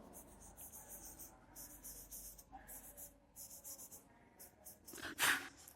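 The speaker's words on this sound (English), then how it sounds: "just I will erase these all" Chalk or marker being wiped off a classroom board during a maths lesson on lines and angles, soft repeated rubbing strokes, fairly faint, ending in a louder brush-like burst near the end.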